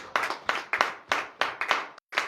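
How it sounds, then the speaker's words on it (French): A congregation bursts into applause during a morning prayer service in Comè, Benin: several rhythmic bursts of hand clapping, close and loud, each swelling and fading, with a brief pause near the end. "Donnez l'acclamation à Jésus"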